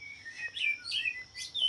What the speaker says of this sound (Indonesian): saya melakukan ngetek burung murai batu saya yang lowo ataupun yang oper birahi di depan kandang